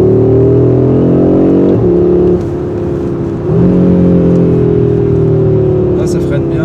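Mercedes-AMG 45 S driving on the road, engine note rising and shifting through gears as it accelerates, loud and close from inside the cabin with someone talking over it.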